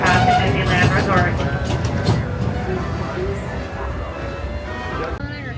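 Disneyland Railroad train at the Disneyland Resort rolls into the station with a rumbling, clattering approach and faint squeals, heard under a loud voice making an announcement.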